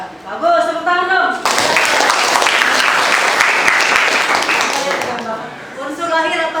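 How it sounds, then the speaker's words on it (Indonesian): Classroom of junior high students breaking into a burst of steady applause lasting several seconds, bracketed by a teacher talking before and after. "tepuk tangan dong"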